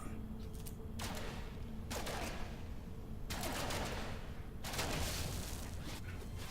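Gunfire in the No Man's Sky game as a target is shot, coming as several bursts of rapid crackling shots that start and stop every second or two, fairly faint and without talk.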